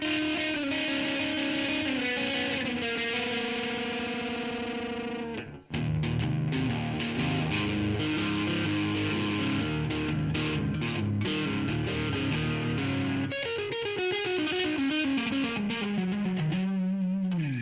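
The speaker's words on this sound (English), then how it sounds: "This is strictly a slap echo." An electric guitar played through a Danelectro Fab Slap Delay pedal into an amp with no reverb, the short slap echo thickening sustained distorted chords and descending runs, loud and continuous with one brief break.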